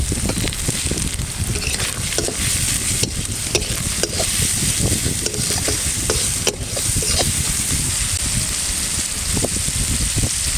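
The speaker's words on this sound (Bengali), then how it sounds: "মশলা থেকে তেল ছেড়ে দিয়ে যা সুন্দর কষানো হয়ে গেছে" Ground spices, salt, red chili, cumin, turmeric and green chilies fry hard in oil in a pan for a pomfret fish curry. The crackling sizzle is loud and dense, broken by frequent stirring scrapes, and no one speaks.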